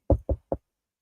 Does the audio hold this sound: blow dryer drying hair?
no